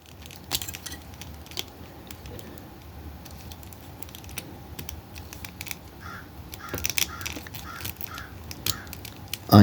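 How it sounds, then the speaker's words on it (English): A crow caws several times in the background, faint and distant, along with scattered clicks and handling noises close by. "I am terribly sorry if you can hear the crow in the background."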